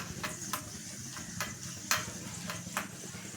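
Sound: garlic frying in pan for garlic kuzhambu

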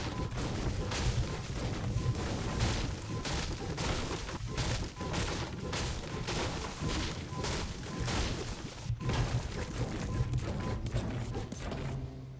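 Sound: Double Gold pickaxe destroying items in Fortnite video game

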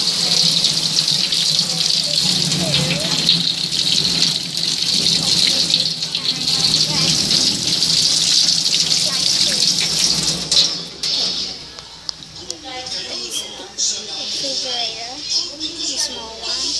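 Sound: kitchen tap water running while washing slime

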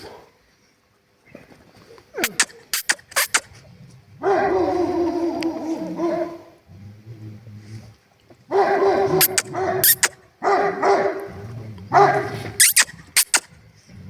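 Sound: dogs barking at night

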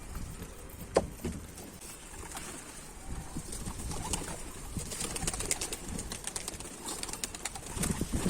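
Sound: pigeons cooing

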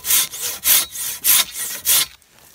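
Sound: Silky Katana Boy 650 saw cutting wood

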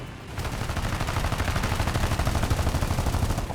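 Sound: gunfire in the video game War Thunder

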